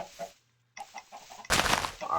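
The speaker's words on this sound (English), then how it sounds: "There are lots of chickens here" Chickens clucking in a video game, a few soft clucks, a brief pause, then a louder burst of rapid clucking and squawking, close and alone without talk.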